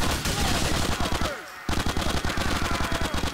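Automatic gunfire in a GTA video game: rapid, loud, rhythmic bursts, close by, broken by a brief pause before the shooting resumes at the same pace.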